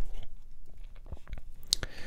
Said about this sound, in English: as well as some Wrigley's Extra Berry Burst chewing gum